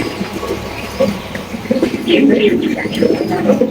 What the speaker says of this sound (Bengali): এই যে দেখেন কবুতর মাশাআল্লাহ পুরাই অস্থির